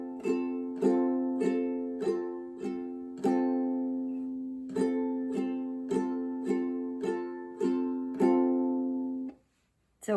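A ukulele is strummed alone in a steady, even rhythm of repeated chord strokes, a pattern of quick eighth-note strums closing on a longer held strum, up close and clear, with a brief silence near the end.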